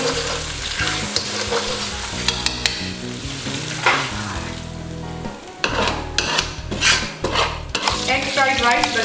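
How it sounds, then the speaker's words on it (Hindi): Eggs fry in hot oil in a pan, a loud crackling sizzle punctuated by repeated metal spatula scrapes and clanks against the pan, busy and close. "एक से 2 मिनट तक अंडों को मैं फ्राई करूंगी"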